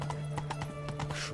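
Roach, Geralt's horse in The Witcher 3, gallops with a rapid, steady clip-clop of hooves, close and clear, over a low constant hum.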